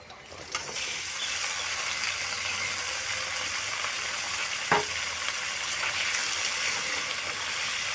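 Washed vegetables go into hot tempering in a pan for dalia khichuri, setting off a steady, moderately loud sizzle with one sharp clatter midway, no talk.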